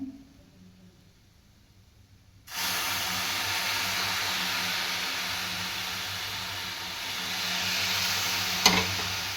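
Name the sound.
carrot frying in ghee for carrot halwa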